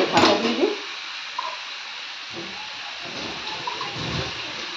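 A little water splashes briefly onto cabbage in a hot pan, followed by a fading steamy hiss and faint simmering.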